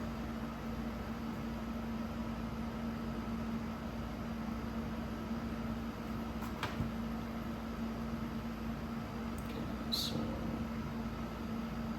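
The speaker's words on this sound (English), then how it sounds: "portable air conditioner I have going in the shop here." A portable air conditioner runs in a workshop, giving a faint, steady hum and hiss throughout, broken only by a couple of brief clicks.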